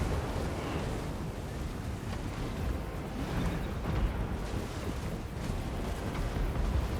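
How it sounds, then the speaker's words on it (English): Dense, continuous rumbling of flame cannons and artillery fire in Total War: Warhammer, with repeated booms blending into a heavy, chaotic battle roar. "Flame cannons, artillery of all sorts are firing in."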